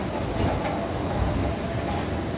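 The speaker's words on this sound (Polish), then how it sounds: "o mamy tam pierwszy pociąg" Train at the Gliwice railway station platform, heard as a steady, continuous low rumble of rolling stock with faint rail noise throughout, moderately loud and with no voices.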